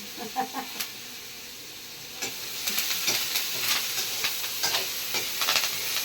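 Chickpea sundal with curry leaves sizzles steadily in a pan while a spoon stirs it, soft scraping taps over a constant close hiss, with no talking.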